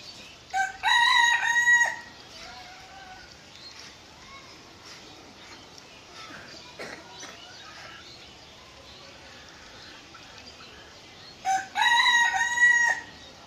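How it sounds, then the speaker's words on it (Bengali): A hill rooster crows loudly twice, once at the start and again near the end, with a thin-voiced call and quiet rustling ambience between the calls. "তো এই দেখলাম মোরগ ডাক দিল"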